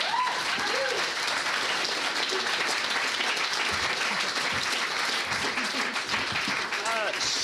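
Sustained applause from a comedy show audience fills the whole stretch, dense and even, with voices calling out over the clapping in places.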